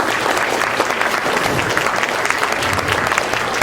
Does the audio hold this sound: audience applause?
yes